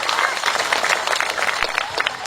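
A crowd at a lighthearted Sundanese-language religious sermon claps steadily and fairly loudly, with voices mixed in.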